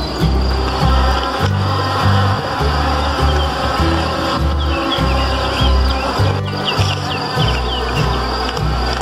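A swarm of honeybees buzzes loudly and steadily around the entrance holes of a two-level beehive nuc box, with dense overlapping droning close to the microphone and no talking.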